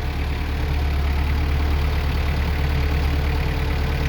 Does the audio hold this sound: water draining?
no